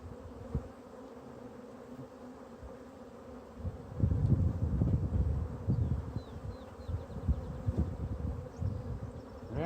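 Honey bees buzz around an open hive during an inspection, a steady low hum with louder bursts from nearby bees and faint handling noises, and no talking.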